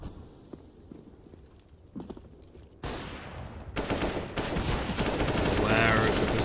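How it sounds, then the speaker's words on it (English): Sprayed gunfire in a Counter-Strike: Global Offensive match, starting with a few scattered shots and building into a dense, loud, sustained burst of automatic fire pre-firing an angle, under faint background game sound. "Surreal gonna find Console though, as he just sprays, pre-fires the angle."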